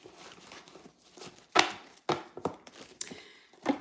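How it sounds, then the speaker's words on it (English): Tarot cards being shuffled by hand, heard as a quick run of sharp, papery taps and riffles in irregular bursts, close and moderately quiet, with no talking. "All right, Aqua, I got to shuffle these cards because folks be trying it"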